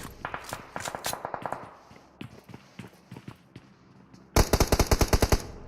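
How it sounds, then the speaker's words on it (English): Bursts of gunfire from the video game PUBG Mobile, scattered single shots and short volleys followed by a loud, rapid automatic string near the end, with no talking. "Shooting on the outside"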